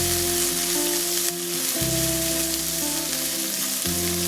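Coconut pieces sauté and sizzle steadily in a pan for chicken thoran, with a close continuous frying hiss and stirring scrapes, and no talking.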